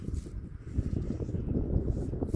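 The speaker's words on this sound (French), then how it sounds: "Et le vent il commence à se lever." Wind picking up outdoors, a steady low rumble of gusts buffeting the microphone, continuous and fairly loud for a couple of seconds.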